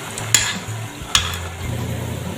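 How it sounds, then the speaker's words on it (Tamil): Banana flower vadai fry in oil and are turned over with a wire spoon, a soft bubbling sizzle broken by two sharp metallic clinks against the pan. "அப்புறம் வடை கம்பி வச்சு 2 நிமிஷம் கழித்து எல்லா பக்கமும் திருப்பி விடுங்க."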